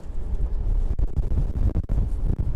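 Strong wind buffets the microphone outdoors beside a VW Golf Mk5 being worked on, a steady loud rumbling roar with gusty swells and brief dropouts, no voices.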